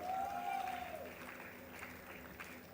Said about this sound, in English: Please keep the applause flowing.